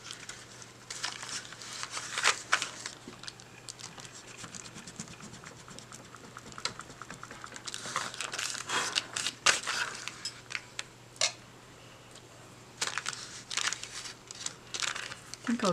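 Paper is creased and folded by hand while making a small autumn and Halloween junk journal, producing close, intermittent crinkling and pressing sounds with quiet pauses between.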